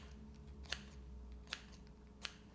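Blending scissors snip through hair three times at a slow, even pace, each cut a crisp, close metallic click against a quiet room background with no talking.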